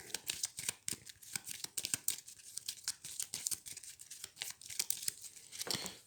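Playing cards drawn and handled during a solo game of the Shadowrun Crossfire Prime Runner Edition deck-building card game: a quick string of close, crisp papery slides, snaps and rustles, with faint talk now and then.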